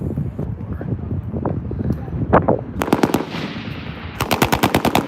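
M240L machine gun fired on an outdoor range: a short burst, then a longer rapid burst of loud sharp reports, with people talking under the shooting.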